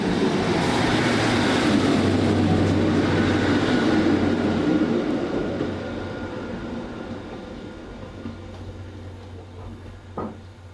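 A train bound for Plymouth rumbles past, loud at first and then gradually fading as it moves away, with a steady rolling roar.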